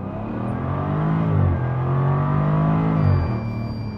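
A Jaguar F-type R engine pulls hard under acceleration, a deep, loud, rising drone that swells, eases slightly and climbs again, heard alone without talk.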